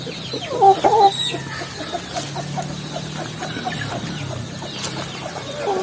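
Laying hens in a poultry shed cluck and murmur close by, with a couple of louder squawks early on and softer continuous clucking from the flock throughout.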